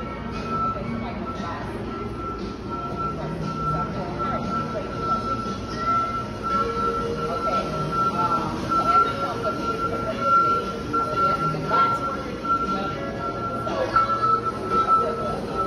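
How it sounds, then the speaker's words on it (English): An airport people mover train hums and rumbles steadily with a faint high whine and occasional clinks, while people talk over it. "now we're waiting on a plane train"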